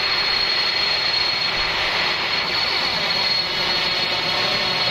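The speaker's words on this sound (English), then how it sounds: "Yeah, the APU is far too loud. Now the engines are kicking off." Airbus A310 auxiliary power unit and engines starting up in Microsoft Flight Simulator, a steady, loud hiss and whine that holds constant throughout, with no voices.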